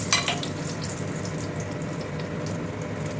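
Bay leaf and whole cumin seeds fry in hot oil while chicken curry is prepared, giving a steady close sizzle with a brief louder crackle at the start.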